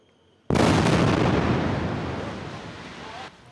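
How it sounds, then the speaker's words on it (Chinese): A sudden, thunderous blast from an Israeli airstrike tears through a 12-story building in Gaza City, then a heavy roaring rumble follows for about three seconds as the building collapses before cutting off. "轰然巨响伴随着爆炸的火光，加萨市区这栋12层楼的建筑物在以色列空袭之下当场倒塌。"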